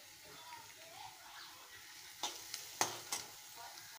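Two onions frying in a home kitchen pan, a faint steady sizzle with soft stirring scrapes and a few louder clinks of a spoon against the pan toward the end.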